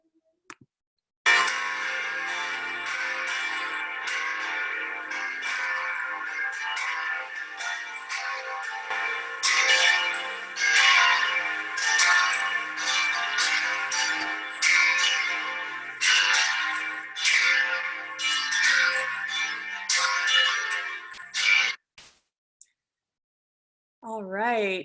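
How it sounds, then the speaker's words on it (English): Cathedral bell tower bells ringing a peal, a long dense wash of overlapping clangs that fills the space for about twenty seconds before stopping, with no voices over it. "That is the bell peal from our cathedral bell tower."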